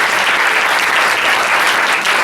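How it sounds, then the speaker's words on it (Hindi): Loud, dense applause from a congregation at a Hindi-language Christian worship service, a steady wash of clapping hands filling the room throughout. "ताली बजाएंगे परमेश्वर की।"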